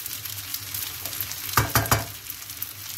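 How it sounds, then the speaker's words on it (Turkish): Rice and bulgur roast in a pan with a steady frying hiss and crackle, and near the middle a few quick, loud scrapes of a spoon stirring the grains; no one speaks. "Bunları da biraz şöyle kavuracağım."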